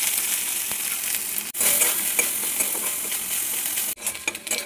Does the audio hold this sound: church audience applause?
no